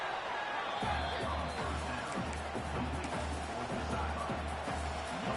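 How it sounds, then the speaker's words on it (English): A large football stadium crowd roars continuously, with a steady rhythmic thumping beat pulsing underneath the noise. "this crowd is fired up. Listen to this noise here."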